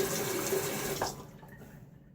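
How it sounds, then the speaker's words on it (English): Running tap water rinses away lather after a close shave with a pre-war Gillette Tech Fat safety razor. A steady, close stream splashes into a sink and then cuts off abruptly about halfway through, leaving quiet room tone. "now I'm gonna rinse"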